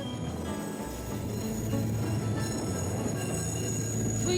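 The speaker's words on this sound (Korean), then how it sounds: "Este es un tren que está partiendo desde la localidad de San Antonio" The Andes high-altitude cloud train leaving San Antonio rolls along the rails at about 4,000 m, with a loud steady rumble of wagons, rattling wheels and a thin squeal.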